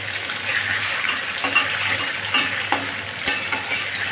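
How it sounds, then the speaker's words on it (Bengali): Prawns frying in hot oil give a dense, continuous crackling sizzle, close and loud, with a few brief clinks and scrapes in the pan. Nobody speaks. "এখানে চিংড়ি মাছগুলো সব আমি তেলে দিয়ে দিয়েছি আমি প্রথমে মাছটা ভেজে নেব"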